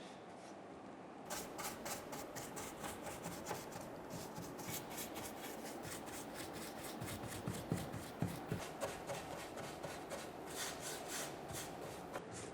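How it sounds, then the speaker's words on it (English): A detail brush paints hard-to-reach areas of a dresser during a furniture makeover, with faint, close, rhythmic brushing and scratchy strokes over a low background hiss and no talk. "I'm just using a detail brush to go in these areas that are hard to reach to make sure I have nice coverage."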